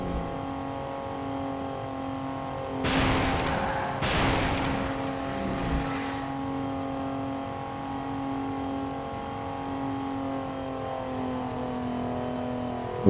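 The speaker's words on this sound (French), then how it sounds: "Je vais accélérer" A vehicle in the video game Pursuit Force revs and accelerates, a steady engine drone with rising harmonic tones and a loud burst of louder noise in the middle, without talk.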